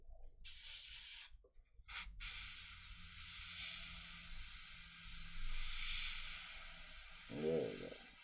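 An airbrush sprays heavy acrylic paint with a continuous airy hiss, broken by a few short gaps where the trigger stops, then resuming steadily with a soft gurgle near the end.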